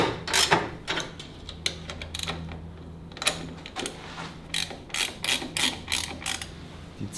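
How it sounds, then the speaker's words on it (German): Ratchet wrench cranking a fine-thread bolt into an Abarth engine, a long run of close, rapid clicking bursts with short pauses between strokes, no talking. "Das heißt, man muss umso mehr kurbeln, bis die Schraube endlich drin ist."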